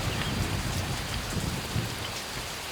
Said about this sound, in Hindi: ये बारिश तो कम होने का नाम ही नहीं ले रही है